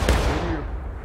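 Musket fire in the Civil War game War of Rights booms once loud and near, then rumbles off into a fading tail of distant shots.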